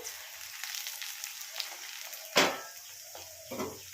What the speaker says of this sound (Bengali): আলুটাকে একটু ঢাকা দিয়ে ভালো করে ভেজে নেব